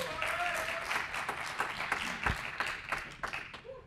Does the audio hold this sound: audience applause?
yes